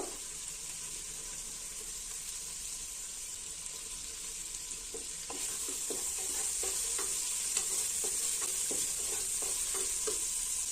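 Chopped onion frying in oil with cinnamon, cloves and cardamom for mushroom biryani: a steady hiss that grows louder midway, then a run of quick scraping stirs against the pan, with no talk.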